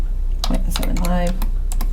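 Quick keystrokes on a computer keyboard while drafting a gasket drawing, a few fast clicks followed by a firmer press of the enter key, close and clear with a voice speaking over the typing.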